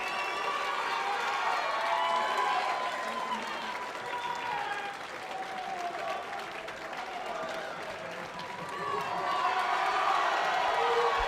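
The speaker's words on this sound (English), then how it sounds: "Arms aloft, you can see in the background plenty of people stood cheering." A darts crowd at the 2016 World Masters bursts into applause and cheering after O'Shea's winning double 8, a loud, continuous roar of clapping and shouts that dips slightly and then swells again.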